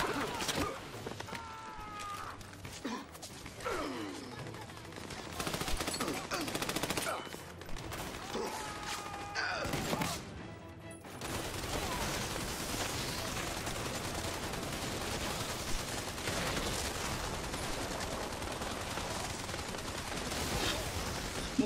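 Heavy gunfire in Army of Two: The Devil's Cartel: scattered shots and chirping game effects give way to a sustained, dense roar of automatic fire, moderately loud, with occasional voices.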